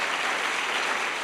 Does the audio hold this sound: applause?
yes